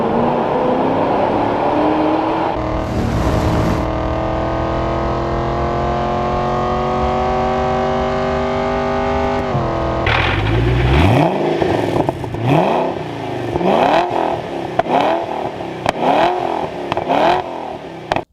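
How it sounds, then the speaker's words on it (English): A 2005 Ford GT's supercharged engine idles with a supercharger whine, then barks through a series of sharp, loud revs that rise and fall in quick succession, close and without talk. "Hearing this supercharged engine from far away makes it sound like trouble is coming."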